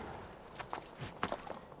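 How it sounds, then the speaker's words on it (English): A few soft, irregular clopping hoof sounds from a horse in Assassin's Creed II, faint against a quiet background with no talking. "Why is there a horse here?"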